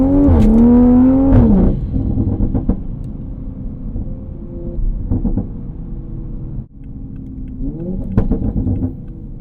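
A Toyota GR Supra sports car, 2.0 or 3.0, revs hard with a rising, sweeping engine note at the start, then settles into a low rumbling idle and cruise, with another rev climbing near the end.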